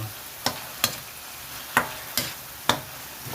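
A spoon stirs pinakbet vegetables in a frying pan, making five sharp, close scraping clacks at uneven intervals over a faint background sizzle, with no voices.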